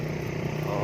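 A Suzuki Raider 150 motorcycle engine idles steadily once warmed up, a loud, close, continuous low rumble with no break.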